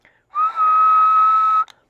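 A person whistles a single steady, pure tone into a radio microphone, one sustained note lasting over a second, close and clean with near silence before and after.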